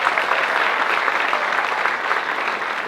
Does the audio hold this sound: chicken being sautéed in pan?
no